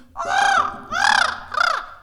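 Three harsh, arching crow caws in a musical performance, loud and close, each call a drawn-out rasping cry separated by short gaps.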